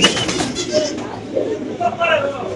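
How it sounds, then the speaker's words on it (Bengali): Pigeons at a pigeon farm coo softly in repeated low, throaty calls, close by and mixed under steady talk. "একটা মুন্ডিয়ান একটা নর কবুতর"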